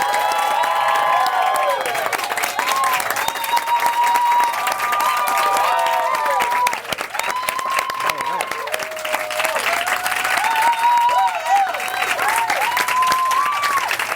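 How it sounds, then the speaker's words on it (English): Sustained applause from a large audience greeting an Oscar-winning film executive as he is welcomed onstage, dense steady clapping with scattered cheers and whoops throughout. "applause might be better than the one we received at the Academy Awards"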